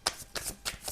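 Tarot cards are shuffled in three quick, crisp riffling bursts, close and clear with no talking.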